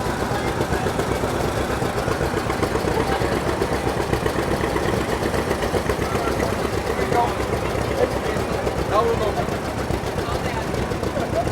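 A tractor engine runs steadily and loudly at close range as a first-time driver sets off, a continuous mid-to-low mechanical drone throughout.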